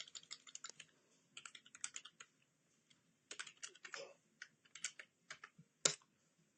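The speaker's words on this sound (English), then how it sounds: "I'm just going to be typing away on another system" Quick, quiet typing on a computer keyboard comes in irregular bursts of soft key clicks with brief pauses and one sharper click near the end.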